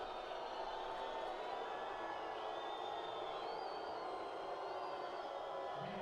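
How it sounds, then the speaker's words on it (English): Spectators at a Paralympic 5-a-side football match between Brazil and Turkey at Rio 2016 keep up a steady, faint, continuous crowd murmur throughout. "the crowd are keeping up the noise"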